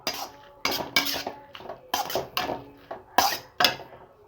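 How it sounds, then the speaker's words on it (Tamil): Fresh mint leaves stirred into a hot pan with the heat off while making chutney, a series of sharp metallic scrapes and clinks of a spoon against the pan, close and irregular. "போட்டு இந்த சூட்டில் ஒரு கிளறிடணும்."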